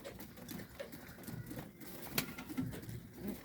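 Pigeons feeding close by, with soft, scattered coos and short calls over light shuffling and pecking noise, plus one sharp click partway through.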